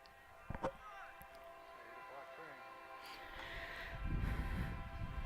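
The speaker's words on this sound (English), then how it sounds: "We'll have a train coming through, so you are not hearing things." A train rolls past near an evening baseball game, faint and distant, with a horn blowing and a low rumble building toward the end, while a commentator talks over it.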